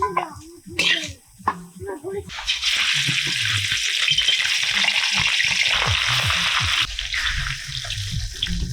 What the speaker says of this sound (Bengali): আলুগুলো দেখো বেশ ভালো করে ভেজে নিয়েছি এবার তুলে নিচ্ছি